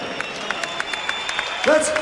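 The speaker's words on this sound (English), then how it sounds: "Let's give a big round of applause for Stan Longinidis" A kickboxing crowd applauding Stan Longinidis, with a steady patter of clapping throughout and a brief voice rising near the end.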